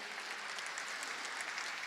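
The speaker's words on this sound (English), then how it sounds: "Let's once again give a big round of applause for Eleganz Interiors Limited." Faint, even applause from the audience at a company stock exchange listing ceremony, a soft continuous patter of many hands heard from a distance.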